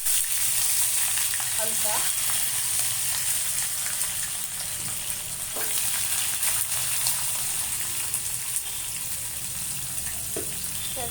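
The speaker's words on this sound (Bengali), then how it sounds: "এবার ক্যাপসিকাম আর পেঁয়াজগুলোও ভেজে নেব" Paneer, capsicum and onion frying in hot white oil in a kadai, a dense continuous close sizzle with occasional faint stirring scrapes; a brief word is spoken.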